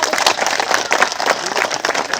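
Audience applause greets a performer taking the stage at a Holi celebration with CRPF personnel, dense steady clapping filling the space for a couple of seconds, with faint talk mixed in.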